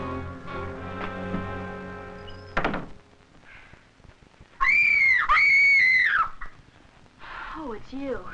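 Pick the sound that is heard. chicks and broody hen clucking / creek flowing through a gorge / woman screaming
woman screaming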